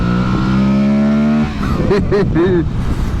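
A 2022 Aprilia Tuareg motorcycle engine holds a loud, steady droning note with a clear harmonic tone, then breaks into rougher, uneven revving as it pulls hard.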